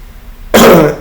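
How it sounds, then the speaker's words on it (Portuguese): A single sharp cough or throat clear bursts out close and loud after a moment of quiet room tone, then fades within half a second. "Desculpe a tosse."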